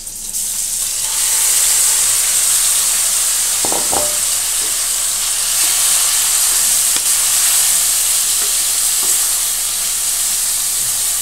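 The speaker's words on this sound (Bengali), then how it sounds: "পেঁয়াজটা ভাজা হয়ে গেছে, এর ভিতরে আমি মাংসটা ছেড়ে দিব।" Meat dropped into fried onions for tehari sizzles with a steady, loud, broad hiss that fills the whole stretch, with faint clinks here and there and no talking.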